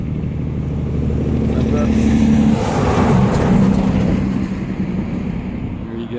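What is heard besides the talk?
big truck passing on a road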